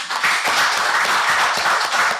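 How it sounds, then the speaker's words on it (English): Audience applause in a Jos meeting hall for a woman being thanked, steady dense clapping filling the whole stretch at moderate volume with no voices on top. "I call for a round of applause for her."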